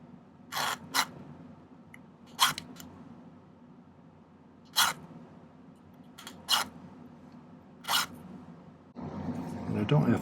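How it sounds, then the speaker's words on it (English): A bastard file's corner rasps a partial notch into silver wire in a silversmithing workshop, giving about six short, sharp strokes spaced unevenly, then a louder stretch of broadband noise at the end. "I like to take my bastard file and use the corner of it and cut a partial notch through the wire."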